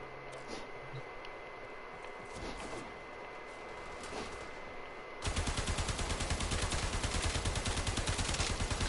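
Braton Prime rifle gunfire in Warframe: a few scattered shots at first, then a long sustained automatic burst of rapid, evenly spaced reports, loud and close.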